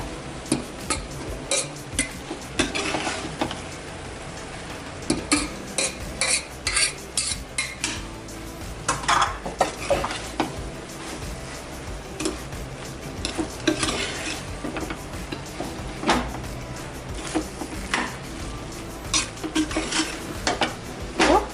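Fish biryani is stirred lightly in a pot, with repeated close scrapes and knocks of a utensil against metal over a soft sizzling bed, arriving in uneven bursts throughout.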